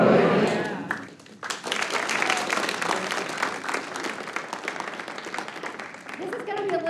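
Sustained applause from a large audience at a spiritual talk gathering, dense clapping filling the room for several seconds after a brief lull, loud and continuous with crowd noise mixed in.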